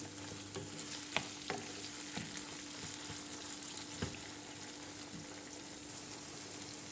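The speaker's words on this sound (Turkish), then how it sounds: "Domatesle beraber de güzelce kavuruyorum" Steady sizzling of minced meat and tomato frying in a hot pan, with occasional scraping stirs, continuous frying hiss throughout and no talking.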